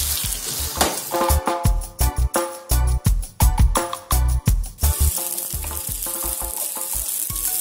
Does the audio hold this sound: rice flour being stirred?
yes